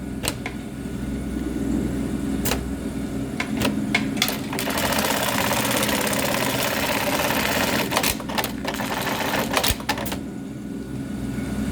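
A refurbished LK1920HA industrial tacking machine with a new motor, new valves and an MC676 control box runs steadily with a low hum, broken by clicks and faster rhythmic stitching bursts, close by and with no voices.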